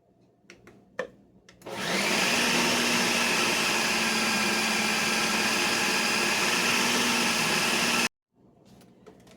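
A kitchen blender whirs loudly for about six seconds, blending avocado into a keto chocolate mousse. It starts abruptly after a few quiet clicks, holds a steady high-pitched roar close to the listener, then cuts off sharply.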